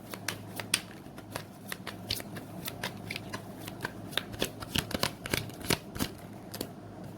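Tarot cards are shuffled by hand in a quiet room: a steady run of crisp riffling and flicking clicks, close and fairly soft, over about seven seconds with no talk.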